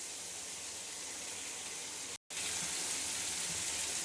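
Rice and spices frying in oil in a pan give a dense, steady hiss close up, interrupted once by a brief silent cut, then carrying on just as loud; no talking.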